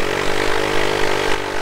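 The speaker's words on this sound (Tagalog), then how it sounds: "Kinig yun na yung motor ko." Honda Click 125i scooter engine fitted with an Apido Pipe V3 aftermarket exhaust, idling steadily at close range with a constant buzzing drone and no talk over it.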